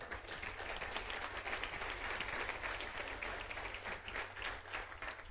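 A congregation claps steadily and enthusiastically, dense applause filling the room for several seconds with no pauses.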